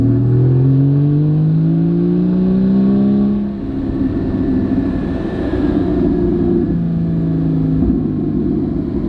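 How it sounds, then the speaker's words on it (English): A stock Porsche GT4 engine revs loudly up and down in deep, throaty sweeps, with a steady rumbling idle between the revs. "right there's the engine,"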